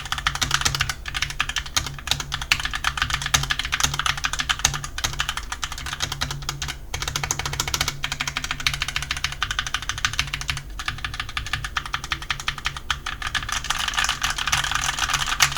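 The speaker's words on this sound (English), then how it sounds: "Let's do a typing test." Steady, fast typing on a Pulsar PK010 Lunar Alloy TKL low-profile mechanical keyboard with Altemus switches, its key clicks close and continuous with no talking.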